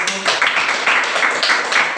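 Children in a classroom clap in a steady rhythm of quick bursts, with a voice talking through it.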